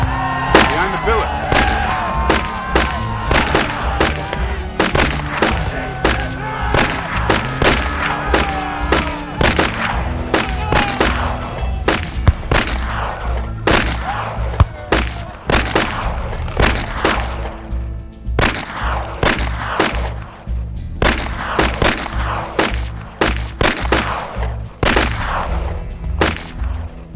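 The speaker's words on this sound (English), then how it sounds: "John, Yusuf, more fire on the right." Gunfire in a film battle scene: dense, continuous bursts of rapid shots and heavy booms, loud and close throughout, layered over a low dramatic score.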